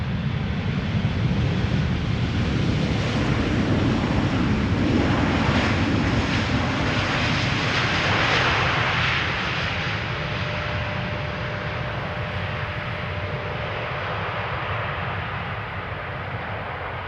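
A KLM airliner arrives at Amsterdam Schiphol Airport with a loud, steady jet roar that swells around the middle and then eases into a lower, sustained rumble as it passes at a distance, with no voices.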